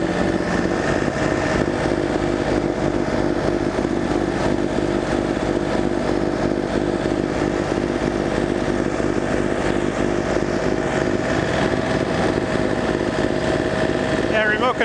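A small tractor-mounted snowblower runs its engine nonstop while clearing snow along a roadside, a steady loud drone with a broad churning roar. Someone talks over it at times.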